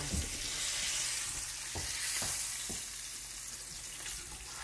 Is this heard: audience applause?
no